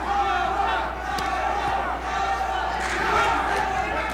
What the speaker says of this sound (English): And the crowd chanting for Kevin Howard.